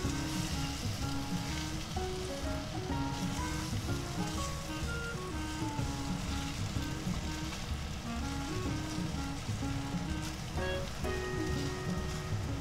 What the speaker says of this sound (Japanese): ここからはもうゴムベラで半熟卵になるぐらい炒めていきます